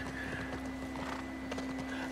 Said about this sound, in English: I can't steer a horse.